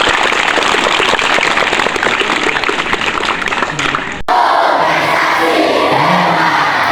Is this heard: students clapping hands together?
yes